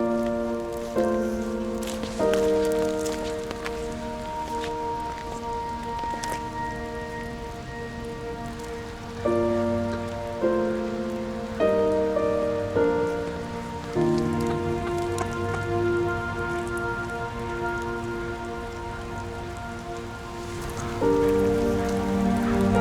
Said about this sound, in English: Rain, rain, you're supposed to go away soon. Well, you're still here today.